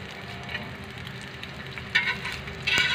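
An egg fries in a pan for an egg and cheese sandwich, giving a soft, steady sizzle close by with a few brief sharper crackles near the end and no talking.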